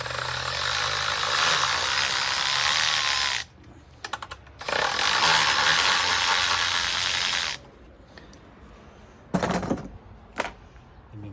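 Ratchet working an 8 mm bolt loose on the EGR line of a Jeep JK 3.8L V6: two long bursts of dense, close mechanical whirring, each several seconds, separated by short clicks and a few brief knocks near the end.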